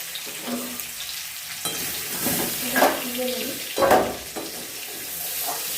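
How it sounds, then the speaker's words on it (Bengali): New potatoes frying in a pan for vegetarian aloo dum sizzle steadily, with louder bursts of hissing and the scrape of stirring every second or so, heard close up. "যেহেতু সেদ্ধ করার নতুন আলু একটু গন্ধ ছাড়ে, সেই জন্য একটু আলুটা ভেজে নেব।"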